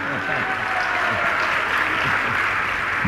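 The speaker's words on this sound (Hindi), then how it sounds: "ये ताली केवल महिलाएं बजा रही कि पुरुष भी बजा रहे हैं?" A crowd at a spiritual discourse gathering in Indore claps in sustained, dense applause, with a voice speaking over the steady wash of hands.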